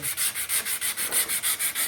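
Sandpaper rubbed back and forth over body filler on a vintage Vespa scooter body, about eleven steady close strokes in an even rhythm, with no talk.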